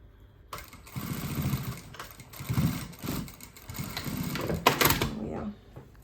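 A sewing machine runs steadily, stitching through a quilted makeup bag with its lining underneath and fluffy side up, its whirring close and continuous in several surging bursts.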